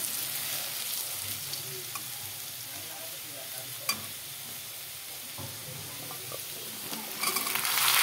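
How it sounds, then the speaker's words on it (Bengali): Taro stolons (kochur loti) fry and sizzle in a pan with onion, garlic and green chilli paste after the potatoes, a soft continuous crackle with occasional stirring scrapes and no voices. "লতিটাকে ভেজে নেব এখন, দেখতে থাকো।"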